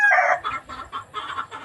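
Chickens, including hens, on a rural property, with one loud squawk followed by a run of short, rhythmic clucks, close by.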